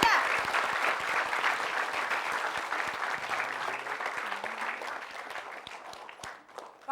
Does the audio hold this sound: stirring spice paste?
no